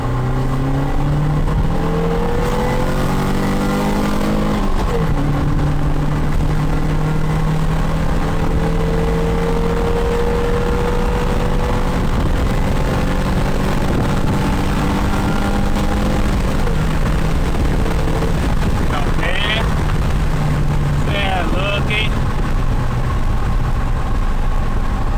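A Fiat Tempra 2.0 16v fitted with a sport air filter accelerates flat out on an open road, its engine droning loud and steady, pitch rising and dropping through gear changes for about twenty-five seconds.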